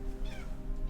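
A short cat meow, in-game creature in modded No Man's Sky, sounds once over a steady background hum, brief and fairly close.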